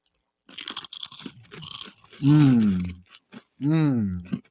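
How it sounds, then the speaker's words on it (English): A crunchy sea-salt pretzel cracker is bitten and chewed close to a microphone, giving scattered crisp crunches, and then two long drawn-out vocal groans of appreciation follow. "there's more of a snap and a crunch on the pretzel cracker"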